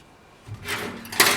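An old wooden drawer in an abandoned 1920s funeral home slides open with a short scrape, ending in a sharper clatter of loose contents near the close; it is fairly quiet, nearby, with no voices.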